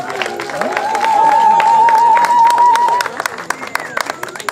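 Scattered audience clapping rises at a ceremony, with a steady sustained tone carrying above it for a couple of seconds. The applause then thins into sparse claps near the end.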